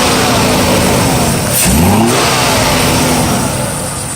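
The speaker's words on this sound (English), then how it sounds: "Engine runs, car runs." A 1992 Mercedes 300CE engine runs steadily and close by, its hum rising in pitch briefly as it revs around the middle before settling back to a smooth idle.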